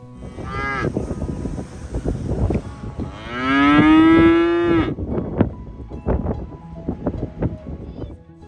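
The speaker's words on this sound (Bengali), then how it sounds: "পাশে মাঠের মধ্যে সুন্দর দেখতে কতগুলো বাছুর দেখতে পেলাম" Calves in a field on Phillip Island give a short moo and then a long, loud, drawn-out moo nearby, with wind noise buffeting the microphone throughout.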